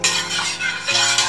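A spoon stirring salt into water in a kitchen pot, a short close scraping swirl with a couple of louder strokes, heard alone.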